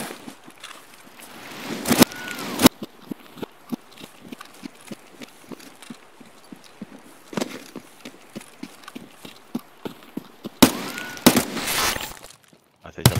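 A few sharp, loud gunshots in the shooter Escape From Tarkov, cracking out at intervals over a fast, steady patter of running footsteps.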